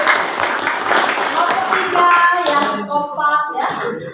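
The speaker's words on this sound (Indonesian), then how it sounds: "Tepuk tangan." Classroom students clap their hands in a burst of applause lasting a few seconds, fairly loud and close, with voices mixed in underneath as it fades.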